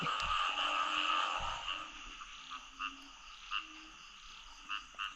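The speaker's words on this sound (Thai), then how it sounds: "กบแม่นี่ไหมสุดยอดเลยครับ" Frogs croak in a steady chorus, with a few louder individual calls popping out at intervals toward the end.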